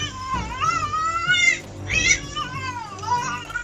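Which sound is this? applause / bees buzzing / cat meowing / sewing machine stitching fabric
cat meowing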